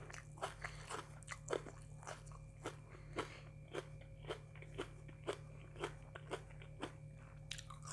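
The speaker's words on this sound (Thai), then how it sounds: "เสียงกรอบไปถึงสวรรค์เลยจ้ะ" Crisp crunching bites of pounded oyster salad topped with fried shallots, a steady series of close, sharp crunches about every half second over a low constant hum.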